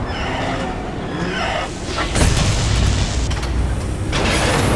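A radome blows up in the Metal Gear Solid video game: a heavy booming blast hits partway through and rolls into a sustained rumbling roar that stays loud to the end.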